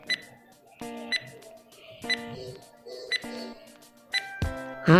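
Quiz countdown timer sound effect: a repeating electronic ticking pattern of bright beeps and chimes at roughly one-second intervals, loud and alone, ending in a sharper final tone.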